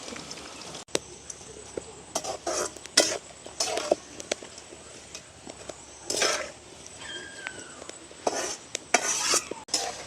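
Jackfruit pieces frying in oil in a village kitchen, a soft sizzle under scattered scrapes and clinks of a spatula being stirred against the pan, with brief faint speech.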